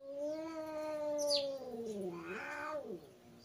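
A cat meows loudly and continuously, a long drawn-out call that bends downward, then rises into a second wavering yowl, close to the microphone.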